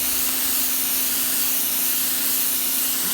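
An AR Blue Clean AR118 electric pressure washer, 1,500 PSI and 1.5 GPM, sprays concrete with a fan nozzle, giving a loud, steady broadband hiss and motor hum throughout, with no pauses or voices.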